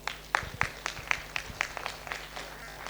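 Sparse individual claps ring out at a community open-mic meeting, a handful of sharp hand claps landing at an uneven, slowing rhythm over a quiet room.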